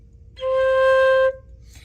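One sustained flute note, clean and steady for just under a second, played close with quiet background before and after.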